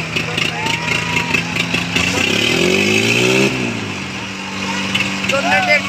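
A Mahindra 575 DI tractor engine revs up and down during a tractor tug-of-war, its rising and falling roar loud and close beneath excited talking.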